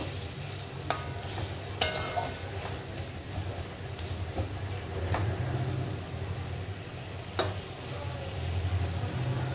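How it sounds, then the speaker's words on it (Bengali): Puti fish curry with mustard oil is stirred in a pan over a soft sizzling bed, with a few sharp scraping clinks from the spoon spaced irregularly across the stretch and no voices. "হালকা হাতে একটু নেড়ে নেব।"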